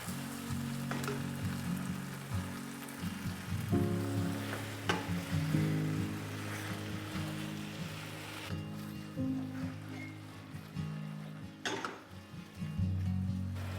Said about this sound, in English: Saute for another minute.